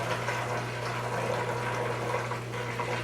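Liquid runs through a home brewing siphon during pumpkin ale making, a steady close trickling and gurgling flow with a low hum underneath, no voices.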